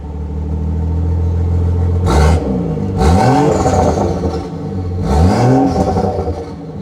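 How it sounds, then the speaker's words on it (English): Stock OEM exhaust on a BMW, idling loudly up close, then two sharp throttle blips that rev up and fall back to idle, with no talking. "we got to give it a couple of blips"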